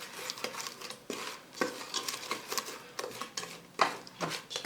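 Eggs being mixed into a honey cookie dough, with a steady run of stirring scrapes and soft knocks of a utensil against a bowl, close and moderately loud throughout.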